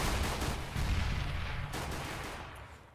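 Dense, sustained gunfire from a Counter-Strike match on Mirage as a team executes onto a site, loud overlapping rifle bursts filling the whole stretch before tapering slightly near the end.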